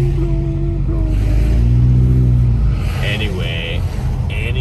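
Town traffic in Big Bear during a January snowstorm, cars rumbling past close by with engine drone and passing whooshes, a voice talking over it.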